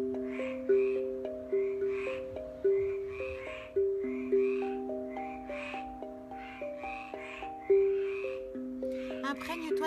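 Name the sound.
frogs croaking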